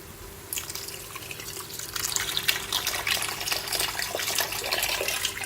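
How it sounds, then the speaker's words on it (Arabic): Cold water poured into a lamb and artichoke tagine, a steady splashing trickle that starts quietly and grows fuller and louder, close up with no talk. "غندير غير الماء بارد، ضيفوا غير الماء بارد فقط، ديروش الماء سخون"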